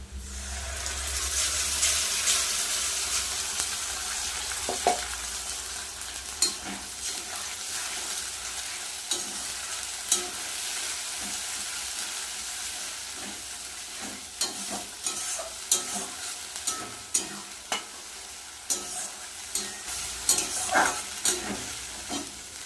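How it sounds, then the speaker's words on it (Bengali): Ground garlic, onion and green and ripe chili masala fries with lote fish in a pan: a steady sizzle under repeated stirring and scraping knocks, close and moderately loud, no talking. "এবার দিয়ে দেবো বেটে রাখা মশলাটা এখানে আছে রসুন পেঁয়াজ আর কাঁচা পাকা লঙ্কা"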